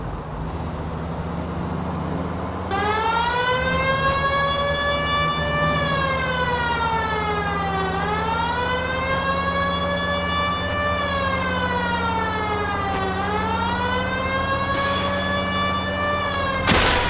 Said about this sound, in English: Why don't you use the siren?